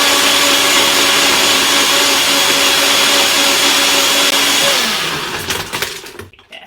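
Loud, continuous whirring of a blender motor blending a banana rum cocktail runs steadily, then slows and fades out with a few clattering knocks at the end.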